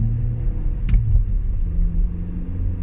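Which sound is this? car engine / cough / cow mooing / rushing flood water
car engine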